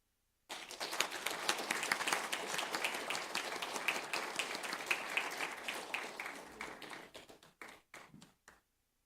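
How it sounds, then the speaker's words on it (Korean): An audience at a church retirement thanksgiving service for missionaries applauds steadily for several seconds. The dense clapping thins into a few scattered late claps before it stops. "계속 끝까지 한번 박수해 주시기를 부탁드리겠습니다."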